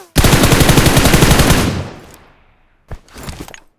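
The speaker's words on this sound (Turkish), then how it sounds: "Sen nereden sıkıyorsun bana?" Rapid automatic gunfire in the PUBG Mobile battle royale game, a loud sustained burst of shots that fades out, followed after a brief pause by a few shorter, quieter bursts.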